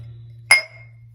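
A single sharp clink of glass salsa jars knocking together, bright and close, ringing briefly before fading over a low steady hum.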